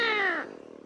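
A hungry jaguar cub cries loudly, one drawn-out harmonic yowl like fighting cats that slides downward, then breaks into faint rapid pulsing as it fades.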